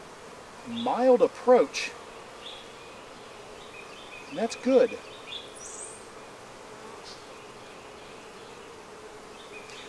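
Honey bees hum around a Flowhive during a queen installation, a low steady drone beneath two short bursts of nearby speech.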